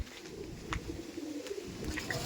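Andhra pigeons coo close by in low, continuous rolling calls over a steady background hum, with no one speaking.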